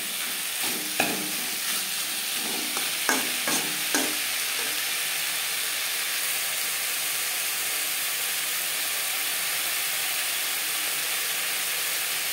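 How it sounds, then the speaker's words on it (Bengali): Potato pieces stirred into a tomato masala in a pan for a Bengali fish curry, a few scraping stirs early on over a steady frying hiss that runs throughout. "টমেটো মশলার সাথে আলু বেশ ভালো করে মিক্স করে দেব।"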